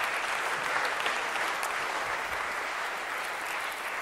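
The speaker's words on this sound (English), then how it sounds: "I'd like you to give a round of applause to my helpers here." A church congregation applauds helpers after a prayer, a steady, even wash of many hands clapping together for several seconds with no voices over it.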